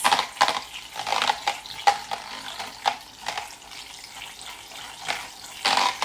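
Odiforgo milk frother whipping pudding mix in a bowl, a steady whirring buzz with splashy, clattery bursts throughout, fairly close and continuous with no talking.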